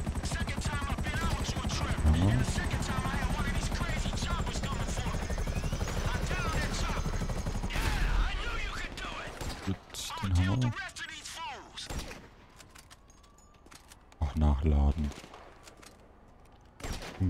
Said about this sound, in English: Und jetzt Chopper.